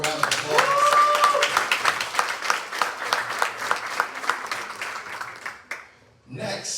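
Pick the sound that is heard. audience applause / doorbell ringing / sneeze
audience applause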